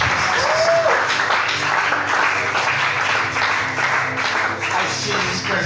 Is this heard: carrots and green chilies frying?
no